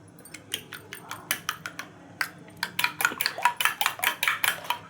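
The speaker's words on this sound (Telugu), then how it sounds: "దాంట్లో ఉన్నటువంటి ఎల్లో వైట్ రెండు కూడా ఒక దాంట్లో ఒకటి మంచిగా మిక్స్ అయ్యేలాగా ఫ్లఫీగా వచ్చేలాగా ఇలా స్పూన్తో గిల కొట్టుకోవాలి" A spoon beats egg yolk and white together in a bowl, fast rhythmic clinks and taps against the bowl in quick bursts, close and bright.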